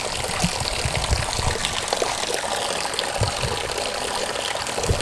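Holy water flows in a fountain at a destroyed Russian camp: a steady, close trickling and splashing that fills the whole stretch at an even level, with no voices.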